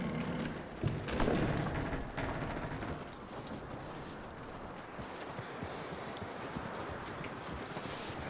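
Horse hooves clip-clop in Red Dead Redemption, a quiet, steady rhythmic patter of footfalls with a louder burst near the start, under low ambient game sound.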